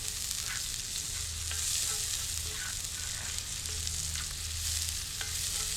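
Chopped ginger, garlic and green chilli fry in oil in a pan with a steady, close hiss of sizzling and soft scraping stirs throughout, and no talking.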